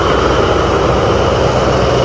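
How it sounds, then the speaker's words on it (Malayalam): An Etihad Rail diesel locomotive idles at a station platform, a loud steady low engine drone heard close alongside the engine, with no talk in the clip. "ഡീസൽ എഞ്ചിനാണ് കേട്ടോ, ഇലക്ട്രിക് അല്ല,"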